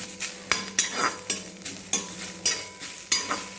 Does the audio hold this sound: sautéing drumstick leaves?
yes